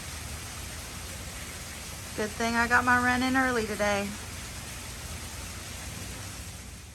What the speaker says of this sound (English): Another rain.